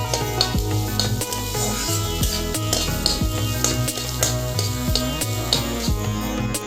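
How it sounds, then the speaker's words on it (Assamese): Boiled potatoes fry in a pan while being stirred, with sharp spatula clicks and scrapes over a light sizzle and a steady tonal hum in the background. "ইয়াতে মই এতিয়া আলুখিনি ভাজি ল'ম।"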